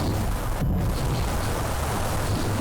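Weapon fire and explosions on targets in a video game rumble as a dense, continuous roar, with a brief sharper burst standing out near the start.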